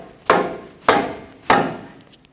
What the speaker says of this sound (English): Take another rubber mallet, and I'm just going to give it some taps.